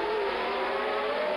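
A 1979 Ferrari T4 Formula 1 car with a flat-12 engine races at the Long Beach Grand Prix, its high, steady engine scream loud and close for a brief moment.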